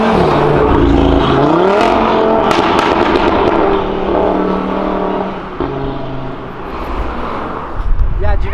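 A Subaru accelerates hard along Avenida Europa, its engine revving up and sweeping in pitch, loud and close, with people talking over and between the engine noise.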